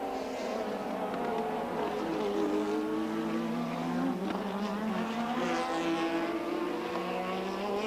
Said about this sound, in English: the British built and powered Tolman Hart with its 4-cylinder engine